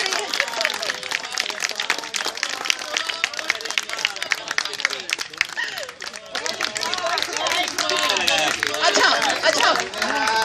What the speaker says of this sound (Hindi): अरे तालियां हो जाए, तालियां.